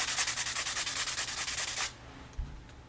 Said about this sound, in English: I'm just gonna rub these together